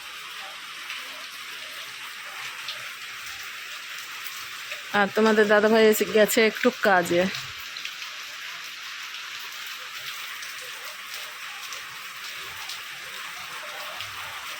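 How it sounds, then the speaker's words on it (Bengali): Light rain falls as a faint, steady patter with soft scattered drops throughout, while someone speaks briefly over it in the middle. "এদিকে শুরু হয়ে গেছে বৃষ্টি।"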